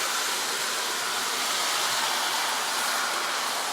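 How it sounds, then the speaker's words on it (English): Oxtail browns in an enameled cast iron Imarku Dutch oven, giving a loud, steady, close sizzle that hisses evenly throughout, with no talking. "Be careful because you're going to get a lot of sizzle."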